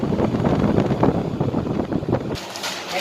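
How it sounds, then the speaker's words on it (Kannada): A Symphony Diet 12T 12-litre air cooler fan blows a strong, steady rushing stream of air close to the microphone, buffeting it for most of the span before the sound thins to a lighter hiss. "ನೋಡಿ ಎಷ್ಟು ಸ್ಪೀಡಾಗಿ ಗಾಳಿ ಬಿಡ್ತಾ ಇದೆ."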